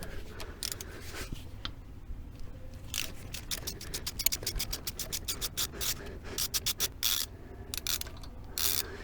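A socket wrench ratchets a bolt off an engine stud on a VW T3 TDI van, giving close, dense clicking in quick bursts over a low background rumble.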